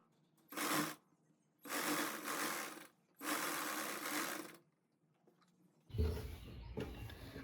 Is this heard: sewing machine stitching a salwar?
yes